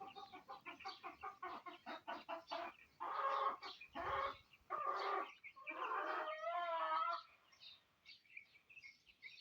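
Several chickens cluck and murmur in short, rapid bursts, close by, with a few longer drawn-out calls among them.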